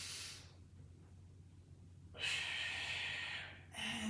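Deep breaths drawn in during a Pilates floor exercise, two loud airy inhales near the microphone separated by a quieter pause, with no talking.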